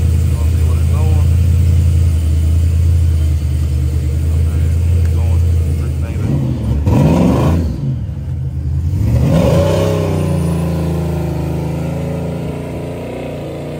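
A 1975 Chevrolet Caprice donk idles with a loud, close low rumble, then its engine revs up and falls back twice in the middle before settling into a steady idle; voices are faintly present.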